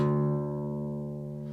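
A single low guitar string tuned down a whole tone to D rings steadily and clearly, sustaining on one deep pitch and slowly fading.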